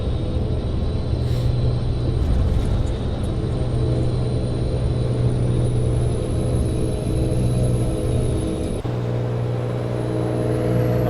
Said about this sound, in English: Yeah, engine sounds beautiful,